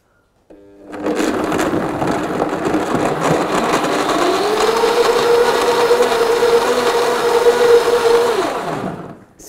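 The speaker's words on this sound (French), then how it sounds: "On prend le couvercle, un bon coup de blender un petit peu rapide." A kitchen blender whirs loudly and steadily for about nine seconds, blending juice with ginger, its motor pitch rising slightly as the mix smooths before cutting off abruptly; no voices.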